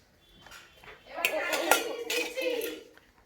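A child plays with a ladle and small pots in a toy kitchen, giving light clinks and scrapes amid brief rustling, mixed with a voice and an adult speaking nearby.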